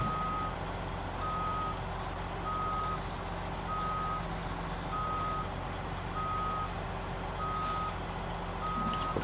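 A truck's reversing alarm in the SnowRunner video game, a regular train of evenly spaced beeps over a low steady engine rumble, with a brief hiss near the end.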